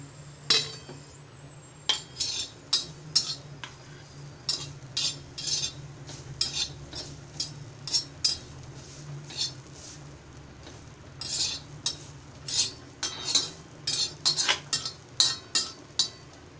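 Fresh grated coconut is roasted and stirred on a hot griddle over a gas flame, a utensil scraping and clinking against the metal in quick irregular bursts, close and moderately loud, with no talk.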